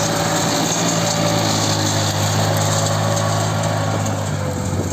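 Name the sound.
tractor engine ploughing farmland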